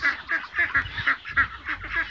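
Young ducklings, nearly grown, quack on a farmyard in a quick rhythmic series of about nine short nasal calls, close and moderately loud.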